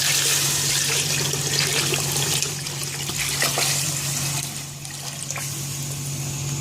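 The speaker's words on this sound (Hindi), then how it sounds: "साथ ही मैं इसमें ऐड कर रही हूँ पानी।" Water pours and splashes into a cooking pot holding fried beef and spices for a haleem, a steady rushing flow that softens slightly partway through, with no talking.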